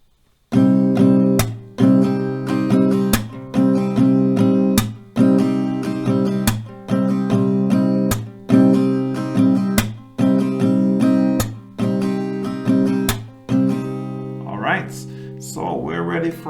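Acoustic guitar playing the strumming pattern for a song, repeated rhythmic strums of a sustained chord with percussive clap-like accents at regular intervals, close and clear, ending with a brief voice.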